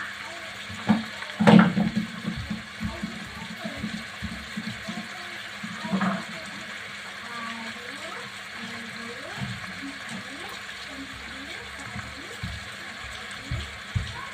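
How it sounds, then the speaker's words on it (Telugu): Water poured into a pot of spiced Andhra fish curry makes a soft, continuous liquid rush with a few louder knocks near the start. A voice talks quietly underneath the pouring. "వాటర్ పోసుకోవాలండి"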